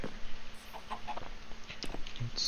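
Chickens cluck in Minecraft, the video game, with a few short, soft blocky calls scattered over a couple of seconds at a quiet level.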